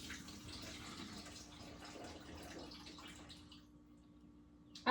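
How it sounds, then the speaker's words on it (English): Ingredients rinsed under a running kitchen tap, a steady broadband water rush that continues for most of the clip, then thins out near the end before a sharp close knock. "I'm just rinsing it again because I do not measure this out."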